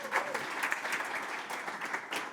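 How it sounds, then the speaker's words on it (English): Audience at a Dutch political talk event gives a brief, dense round of applause, steady and fairly distant throughout. "so maybe once more an applause."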